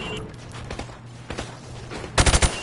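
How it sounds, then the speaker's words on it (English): Rifle shots ring out at a firing range with downrange targets in Call of Duty: Modern Warfare Remastered. A few scattered single shots come first, then a quick cluster of four sharp reports near the end, over quiet background noise. "Now, shoot each target while aiming down the sights."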